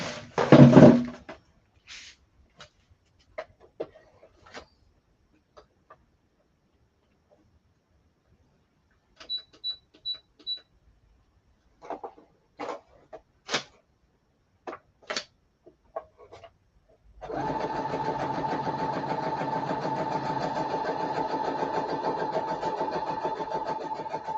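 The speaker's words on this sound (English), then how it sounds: "I'm going to sew this into a ruffle really quick" Junk mail paper sewn into a ruffle: scattered light taps and clicks give way to a steady, close mechanical whirring of stitching that runs for several seconds.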